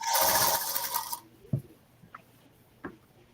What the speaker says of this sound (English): Is my sewing machine making too much noise?